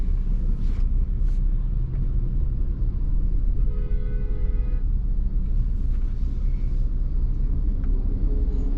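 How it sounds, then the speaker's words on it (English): Continuous low road rumble of passing traffic including trucks, steady and fairly loud throughout, with a brief tonal hum in the middle. "I am stuck in traffic, and this sucks"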